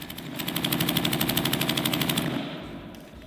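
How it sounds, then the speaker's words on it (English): Sustained rapid automatic gunfire from Afghanistan combat footage, a fast, even rattle of shots held for several seconds at moderate distance before tapering off, with no voices. "I think they're shooting."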